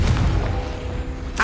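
A Confringo blasting spell explodes in the Hogwarts Legacy video game, a loud low boom that rumbles and fades across the moment, followed by a brief bright burst at the end.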